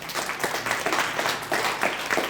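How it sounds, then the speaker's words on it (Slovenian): An audience at a Christian centre gathering claps for visiting missionaries, a short burst of applause that swells and dips in waves. "Dajmo en aplavz."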